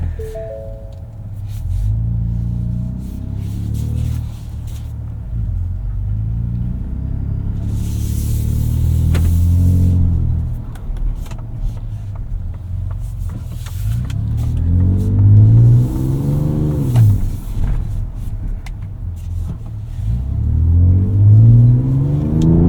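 A 2024 Ford Ranger Raptor with a Ford Performance tune adding 50 hp, heard from inside with the rear window open, its engine rumbling and revving through repeated rising sweeps as it accelerates and shifts, loud and continuous.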